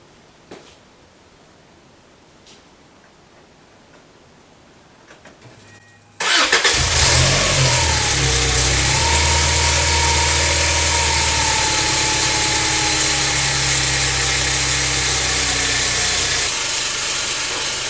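A turbocharged Subaru Legacy engine with an upgraded VF39 turbo cranks and catches after a few quiet seconds, then settles into a loud, steady idle on old gasoline that runs on without a break.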